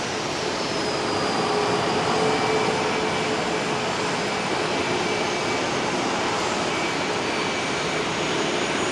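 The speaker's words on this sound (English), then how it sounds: "Taking off from runway 31 right here at Love Field." A jet airliner takes off from runway 31 at Dallas Love Field, its engines giving a loud, sustained broadband roar that holds steady throughout, heard from an outdoor spotting position with no talk.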